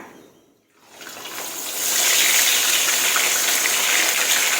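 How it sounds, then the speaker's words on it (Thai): A salted silver barb fish goes into boiling oil to fry. After a brief near-silence, a loud hissing sizzle surges up and holds steady and continuous. "หลังจากเราตั้งน้ำมันให้เดือดแล้วค่ะพี่น้องเราเอาปลาใส่ลงไปเลยค่ะ"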